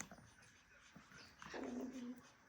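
Pomeranian puppies squabble over nursing, giving soft whimpers and then a short, thin growling whine, close and quiet against a faint room background.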